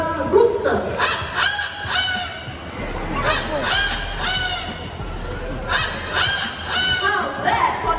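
An Amazon parrot at a Singapore bird park mimics a rooster's crow, giving a run of repeated, strained, harmonic calls close by, with chuckling human sounds and crowd murmur around it.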